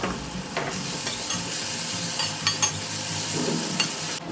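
Onions, capsicum and tomatoes fry in a pan with a steady, close sizzle, broken by a few scraping stirs and light utensil taps throughout.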